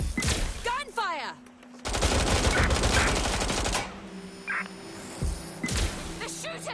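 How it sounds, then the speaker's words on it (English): Gunfire in the video game Watch Dogs Legion: loud rapid bursts of automatic shots crackle in quick volleys, separated by brief lulls and short clatters of impacts. "They're shooting!"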